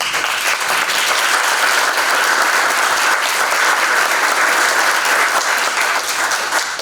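An audience claps warmly to welcome Chef Art Smith at a Reunion School event, a steady, loud wash of many hands that holds evenly for the whole stretch.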